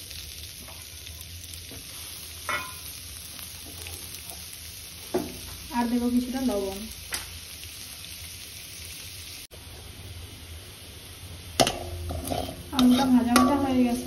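Potatoes sizzle in white oil with turmeric in a home kitchen, a soft steady frying hiss with stirring clatter in short bursts while someone talks.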